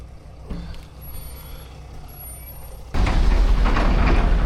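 A truck arriving in Losova, eastern Ukraine, gives faint high reversing beeps before a loud rumbling, hissing engine surge abruptly takes over and stays close and heavy.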